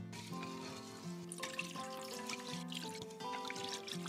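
Water trickles and swishes over rice grains being rinsed in a bowl, a soft close splashing and dribbling that carries on for a few seconds with no one talking.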